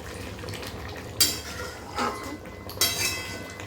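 A metal lid comes off a pot of Bengali tiger prawn coconut curry, giving a few distinct clinks and scrapes of metal against metal over a soft background hum, with no talking.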